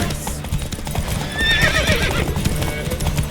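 Horse galloping in the video game The Witcher 3, with rapid rhythmic hoofbeats close up and a whinny partway through, all heard alone without talk.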